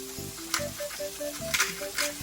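Shrimp sizzle in oil in a pan for a spicy shrimp and pepper pasta, a close, moderate hiss that swells in short bursts over a low background tone.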